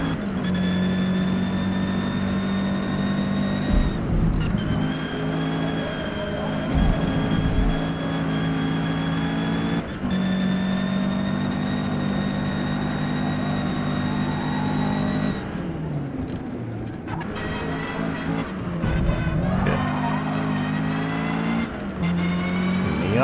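Race car engines in a Forza Motorsport multiplayer race, with a Miata among the cars, drone loudly and steadily with shifting revs, short gear-change dips and brief drops in pitch throughout.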